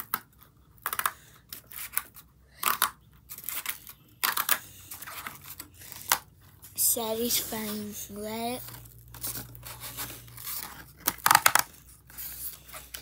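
Scissors cutting through material inside a box, heard as scattered crisp snips and crinkling rustles at close range, mixed with handling noise and short bursts of a person talking.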